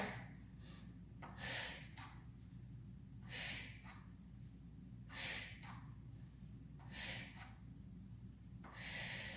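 Heavy, rhythmic breathing while someone holds a hard power yoga pose, with about five loud, breathy exhales spaced roughly two seconds apart over a low steady hum.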